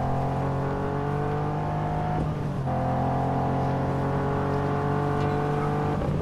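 A car drives steadily in the video game Just Cause 3, its loud engine holding a sustained droning hum with a brief dip mid-run before resuming at constant pitch.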